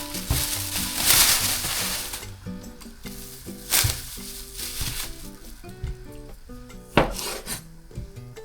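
A knife slices tomato and onion on a board while preparing sinigang, giving a series of crisp cutting knocks and scraping chops at an irregular rhythm, close and fairly quiet, with faint music underneath.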